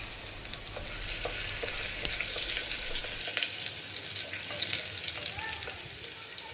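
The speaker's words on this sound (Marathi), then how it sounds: "अर्धा इंच आल्याचे ते पण असे छोटे छोटे तुकडे करून घेतलेले आहे तेही तेलामध्ये भाजू" Small pieces of ginger fry in oil, giving a continuous close hissing sizzle with faint scattered crackles and a low rumble that drops away midway.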